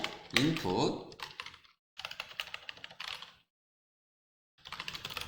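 Keys clatter in quick bursts on a computer keyboard as code is typed, with short pauses between runs of strokes, close and fairly loud.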